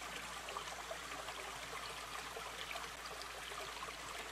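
Creek water flows steadily below a hunting area, still running in hot summer weather, a constant broadband trickle and rush that stays close and even, with no talk.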